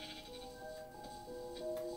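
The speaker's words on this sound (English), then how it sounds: "Wait, sheep, I'm gonna kill them." Sheep in the video game Minecraft bleat faintly, with a wavering bleat tone running under soft ticking clicks, quiet and steady across the whole clip.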